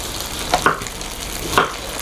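Salted tofu fries in a pan for a Vietnamese vegetarian fermented-fish hotpot, giving a steady low sizzle with a few sharp crackles and spatters.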